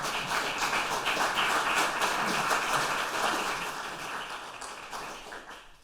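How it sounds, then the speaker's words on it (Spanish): Sustained audience applause fills a talk event hall, a dense steady patter of many hands clapping that holds for several seconds before thinning slightly toward the end. "Un aplaudiment per tots vosaltres"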